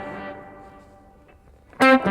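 Guitar played through a Fractal FM9 with reverb, a sustained note decaying into a reverberant tail before a sharp, loud new strum bursts in at the end.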